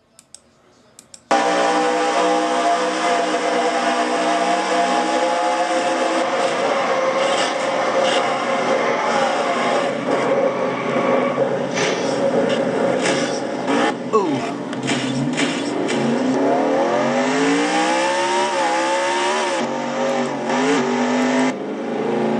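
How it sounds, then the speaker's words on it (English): A race car engine drones loudly and steadily during a Castrol GTX Cup Series race, dips and sputters midway as the car stalls, then revs back up through rising pitch, continuous and close. "We heard Ann stall the car and then got it back going again"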